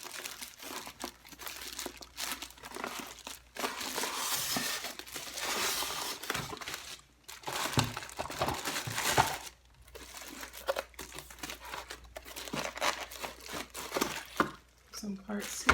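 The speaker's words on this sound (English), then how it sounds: "I can get these 2 styrofoam pieces out of the way" Styrofoam packing pieces are pulled and scraped out of a slow masticating juicer box, giving loud crinkly rubbing and squeaking bursts across the whole stretch with brief pauses.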